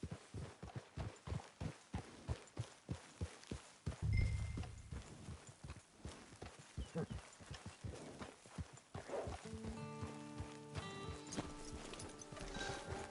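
Horse hooves walk in Red Dead Redemption 2 with a steady, even clip-clop, fairly quiet and close, while a horse snorts briefly and music and ambient game sounds build in the later part.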